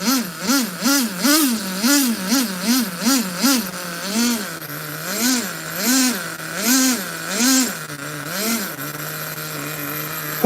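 Nitro RC T-Maxx truck with an OS carburetor revs repeatedly in loud, rhythmic bursts, each throttle blip rising and falling before settling into a steady high-pitched idle, alone with no talk.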